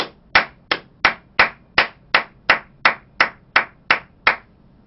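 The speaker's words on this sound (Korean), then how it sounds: "그거 진짜 박수 쳐줘야 돼요" Twelve or thirteen single sharp claps or slaps in a slow, even rhythm, close and loud, each separated by a short pause, in a quiet room with no crowd.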